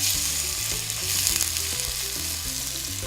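Onions fry in olive oil with a little sugar while being stirred, making a constant bright sizzle with faint scraping movement underneath, close and steady, no voices.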